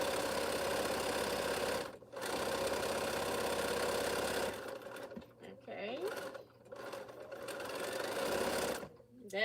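Sewing machine running in bursts while quilt strips are stitched, a steady mechanical whir that stops and restarts several times, with brief pauses between runs.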